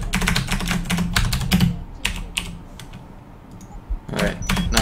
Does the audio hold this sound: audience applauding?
no